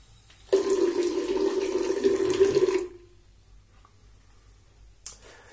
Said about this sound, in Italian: Mi bagno un attimo il viso.